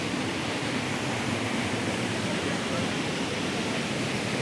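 Manavgat waterfall in Antalya, Turkey, roars as a dense, constant broadband rush of falling water, steady and enveloping with no breaks, heard close by.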